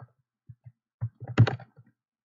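Irregular clicks of keys being typed on a computer keyboard while writing code, a few scattered taps followed by a quick flurry, close and fairly quiet.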